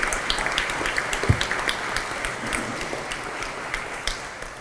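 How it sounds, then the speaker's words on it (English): An audience at a Rotary sports awards evening applauds for Rob Daigle, a steady patter of many hands clapping at moderate distance throughout, with no talking. "Let's give Rob Daigle a round of applause"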